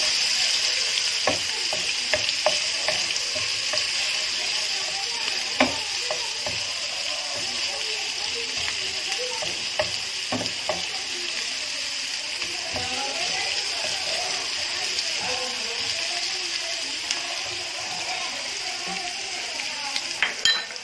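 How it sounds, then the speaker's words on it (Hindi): Continuous oil sizzling and crackling as ginger-garlic paste fries in a pan for Kashmiri mutton, with occasional scraping stirs and light clinks throughout. "इसके अंदर अदरक लहसुन का पेस्ट डालेंगे और इसे थोड़ा सा ब्राउन होने देंगे"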